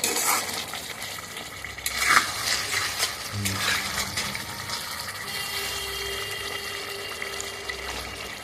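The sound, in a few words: spices being sautéed (stirred and fried) in a kadai for chicken curry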